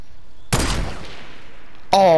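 A gunshot blast in Fortnite aimed at knocking down trees, one sharp loud report with a decaying tail, followed by a sudden voice talking at the end.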